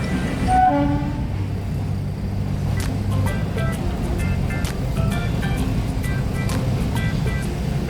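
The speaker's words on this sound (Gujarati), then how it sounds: "પછી તો બસ ફાટકે ઊભી રાખી દીધી અને ટ્રેન નીકળી ભાઈ" A train rolls past a railway level crossing while a stopped bus waits, with a steady low rumble and rhythmic clatter of wheels, repeated short horn blasts, and distant traffic noise around it.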